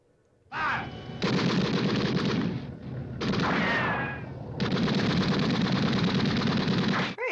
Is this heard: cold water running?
no